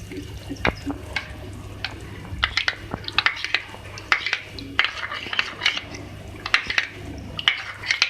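Beef masala with a glass of water being stirred in a cooking pot, a steady run of spoon clinks and scrapes against metal over a low background hum.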